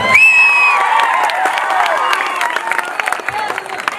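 Live audience at a Kannada comedy show by comedian Harish bursts into loud, sustained applause mixed with cheering and whoops, a dense crowd roar that stays steady for several seconds.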